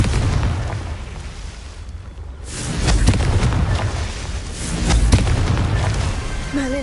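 Confringo blasting spell explosions in the video game Hogwarts Legacy, heavy booming blasts rumbling continuously with two louder swells, dense low rumble throughout and brief speech-like sounds mixed in.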